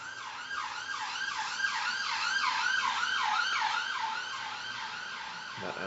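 An ambulance siren wails in a rapid repeating up-and-down pattern, fairly distant and steady, alone without voices.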